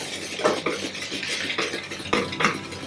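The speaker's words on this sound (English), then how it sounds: "We'll just whisk all that together." A whisk scrapes and taps around a bowl close by, mixing dry pumpkin cookie ingredients with pumpkin pie spice and salt, a continuous busy rustle with periodic clinks against the bowl.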